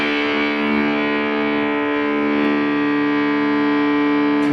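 A sustained, heavily distorted fuzz pedal guitar tone with dense buzzing harmonics, held steady and loud throughout with a slight swell near the end.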